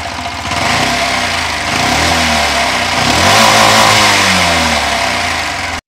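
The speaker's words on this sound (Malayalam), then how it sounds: "ഏതായാലും നമുക്ക് ഈ ഒരു വണ്ടിയുടെ എഞ്ചിൻ ഒന്ന് സ്റ്റാർട്ട് ചെയ്യാം," A Bajaj Qute BS6 quadricycle's small engine starts and runs steadily, loud and close, with rising and falling revs through the middle and a cutoff at the end.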